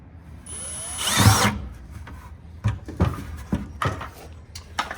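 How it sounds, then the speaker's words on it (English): A power drill whines briefly into a plastic bucket up close, followed by a series of short scraping, rubbing bursts as the material is worked. "You start with drilling the bucket at the top as close as you can to the bucket frame."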